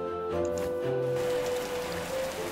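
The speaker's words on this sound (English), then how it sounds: "It's autumn, it's raining" Rain falling during autumn in the Cattails video game, a continuous patter of rainfall layered with sustained tones of background game music.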